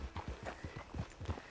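Horse hooves clip-clop at a steady walking rhythm in a video game, close and clear, with no talk.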